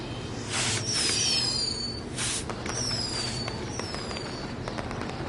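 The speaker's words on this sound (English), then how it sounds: "either way, we'll get to see some cool fireworks" Fireworks bursting in the wrestling video game WWE 2K20, several crackling explosions with whistling trails in quick succession, fairly loud and unaccompanied by speech.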